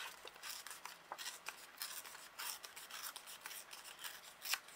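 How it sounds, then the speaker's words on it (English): Card stock being torn in half by hand, a quiet, close, scratchy ripping with short fibrous bursts over a few seconds, no talking. "And then for this one, we're just going to tear it in half."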